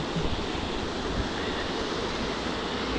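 A large stream flows near a bridge on a village fishing outing, a continuous dense rushing and hissing of water with no break, loud and close throughout.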